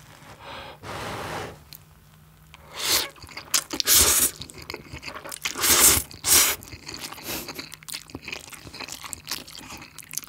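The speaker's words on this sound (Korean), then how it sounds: "이거 구워먹는 치즈인데 빨리 먹어볼게요." Close-up mukbang eating of grilling cheese with spicy fire chicken ramen and pork belly: bursts of crunchy biting and wet chewing come in uneven clusters between quieter pauses, with no speech.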